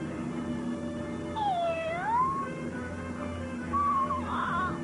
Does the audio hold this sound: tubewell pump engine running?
no